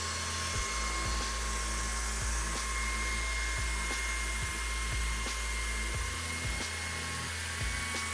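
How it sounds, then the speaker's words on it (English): Pasta machine's cappellini cutter slicing a rolled wheat gluten sheet, a steady loud mechanical whir with regular clicking ticks from the turning rollers repeating throughout, no talk. "run it right to the cappellini cutter"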